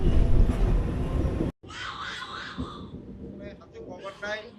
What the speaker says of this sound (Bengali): এখান থেকে আমি আজকে যাত্রা করব train number zero three zero three seven Katwa Ahmedpur memo